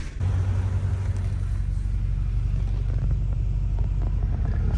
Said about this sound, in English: Now we're about to go take a ride in C55.